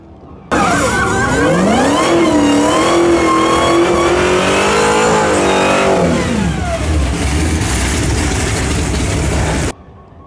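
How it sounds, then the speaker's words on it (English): Loud engine of a drag car doing a burnout at a drag strip, a sustained high-revving roar with rising and falling pitch for about nine seconds, ending abruptly. "All right, he's doing a burnout."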